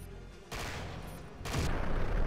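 Gunfire in 007 Quantum of Solace, two bursts of loud, close shots over a low game rumble, the second heavier than the first.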